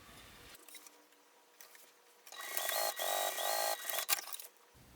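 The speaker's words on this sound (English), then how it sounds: "I'll just sew along that top edge to secure it to the apron" A sewing machine stitches along the top edge of an apron pocket flap in a quick mechanical rattling burst of about two seconds, framed by quiet handling noises and a brief clack.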